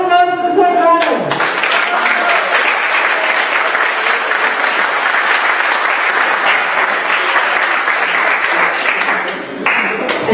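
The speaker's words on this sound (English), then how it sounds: "So round of applause for the second runner." Loud, sustained applause from a large crowd at a startup competition, dense clapping that carries on steadily for several seconds after a brief musical sting at the start.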